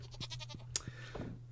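A sheep in the farming video game Stardew Valley lets out short, faint bleats over a steady low hum of game background sound.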